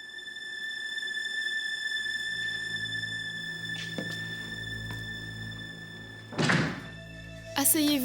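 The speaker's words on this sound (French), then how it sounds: "Fermez la porte, s'il vous plaît, Monsieur Vieira." A door swings and shuts with a squeal and a solid thunk near the end, over a steady electronic hum and tones.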